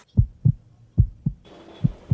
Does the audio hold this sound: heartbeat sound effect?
yes